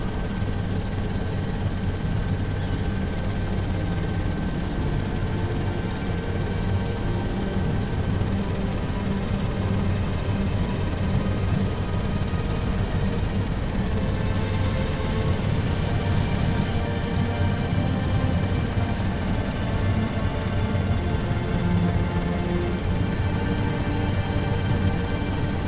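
Aircraft engine hovering in Halo: Reach, a steady loud droning roar with a faint whining hum on top, unbroken and close throughout.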